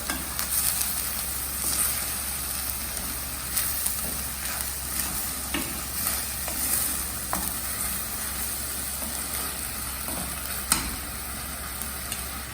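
Spices for a one-pot dal bhaat sizzle steadily in a pot while a spoon stirs through them. A continuous frying hiss runs under scattered close scrapes and clicks, with no voices.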